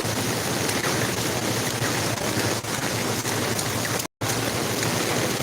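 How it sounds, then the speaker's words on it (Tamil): Heavy rain pouring steadily in Singapore, a dense continuous hiss of drops on surfaces, loud and close with no voices, briefly cut out for a split second near the end. "மழை நல்லா மழை பெஞ்சிட்டு இருக்கு"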